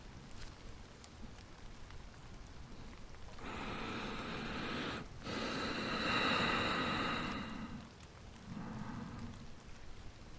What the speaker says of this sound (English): To make it pleasant, I use some rain sound